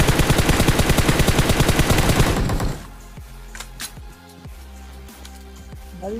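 Loud, rapid automatic gunfire in a shooting video game rattles in one sustained burst for about two and a half seconds, then breaks off into quieter in-game background sounds with a few scattered effects.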